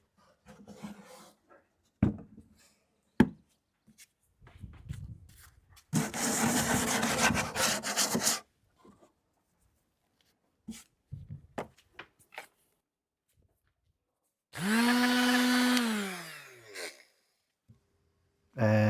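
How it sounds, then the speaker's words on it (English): Several bursts of sanding rasp across a reclaimed scrap wood planter, interspersed with scattered knocks and handling sounds, plus a brief voiced sigh-like tone near the end. "Time for a final sanding before putting on some color."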